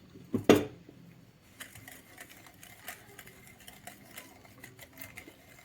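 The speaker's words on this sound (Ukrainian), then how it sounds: "І перемішую, щоб опара була однорідною" A spoon stirs flour into a thick yeast sponge batter for a yolk-rich Easter paska. A brief clatter comes first, then soft, continuous scraping and tapping against the bowl at close range.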